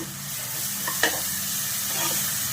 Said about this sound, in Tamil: இஞ்சி பூண்டு பேஸ்ட் அந்த பச்சை வாசனை போடுற வரைக்கும் வதக்கிக்கலாம்